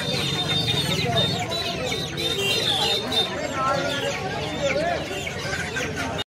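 Golden sonali chickens cluck continuously at a busy poultry market in Uluberia, a close, layered chorus of clucks with crowd voices mixed in underneath.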